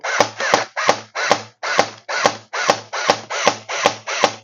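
A CYMA CM.057 electric airsoft Dragunov rifle fires semi-auto in a quick, even series of about twelve sharp mechanical shots, each with a brief gearbox whir, close and loud.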